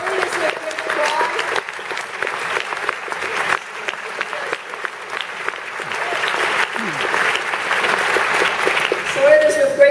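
Sustained applause from a lecture audience at Ryerson Theatre in Toronto, dense clapping filling the hall for the full stretch and swelling slightly louder toward the end, with no talk over it.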